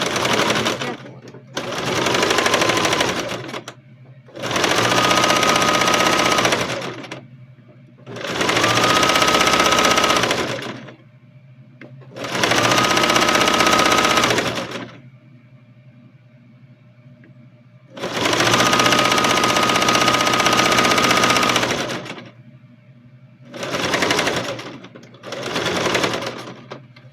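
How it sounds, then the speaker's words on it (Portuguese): A sewing machine stitches a seam on a child's backpack in about seven loud, close bursts of rapid whirring, each a few seconds long and separated by short pauses. "Então, aqui eu venho, ó, e passo uma costura aqui agora"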